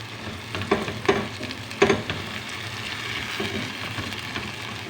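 Tomatoes fry in a pan with a steady background sizzle, and a few stirring clatters stand out near the start. No one speaks over the cooking.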